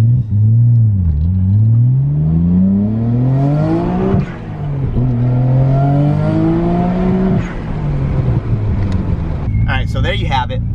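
A Nissan GT-R engine on a dyno revs hard through the gears, with rising, falling and rising again roars and loud sustained pulls. A brief burst of speech comes near the end.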